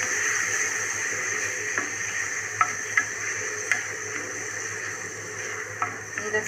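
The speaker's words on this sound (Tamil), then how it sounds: "இப்போ நம்ம இதில் தக்காளி போட இப்போ இதை நல்லா வதக்கிக்கலாம்" Tomatoes and curry leaves sautéing in a pan, a steady soft sizzle with occasional light clicks of a spoon stirring against the pan, close and continuous without speech.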